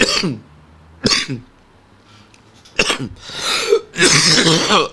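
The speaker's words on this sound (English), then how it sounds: "I cough when I start getting emotional, excited, slash passionate." Several harsh coughs close to the microphone, a couple of single bursts followed by a cluster of rougher, throaty coughs.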